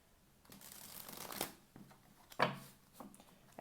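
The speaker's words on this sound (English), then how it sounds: "So I'm going to start shuffling." Tarot cards shuffled by hand, several papery riffles and slides in bursts with a sharper snap near the middle, close and fairly quiet with no talking.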